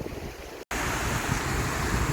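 A big river in the highlands flows in a steady broadband rush, with a cut-out break near the start and some wind buffeting on the microphone.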